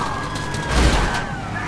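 Several police car sirens in GTA 5 Online wailing together in pursuit, steady rising and falling tones over a rumbling, busy background that swells in the middle.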